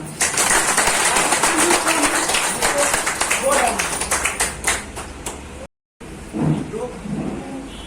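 Audience at a health and business seminar held in a roadside dhaba claps loudly and densely for several seconds, tapering off, then falling silent before voices are heard talking.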